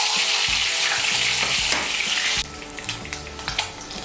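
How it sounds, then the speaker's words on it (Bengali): Eggs coated in turmeric, chili powder and oil fry in a pan with a loud, steady sizzle and crackle, broken by a few spatula scrapes and knocks, the hiss dropping somewhat partway through. "হলুদ, লঙ্কার গুঁড়ো আর তেল দিয়ে মেখে রেখেছিলাম ডিমগুলো, এগুলো ভেজে নিচ্ছি।"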